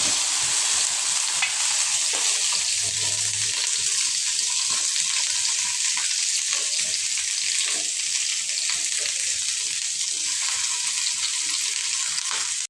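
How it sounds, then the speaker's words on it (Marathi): Okra (bhindi) frying in a pan, a constant bright hiss of sizzling oil held evenly throughout, close and unbroken, with no talking. "भेंडी भाजते चांगली खूप"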